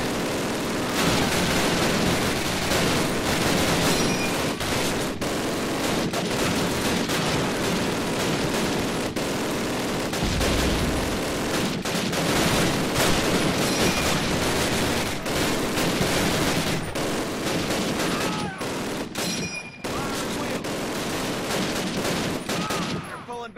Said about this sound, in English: in reality, you would never be able to fire an MG42 like this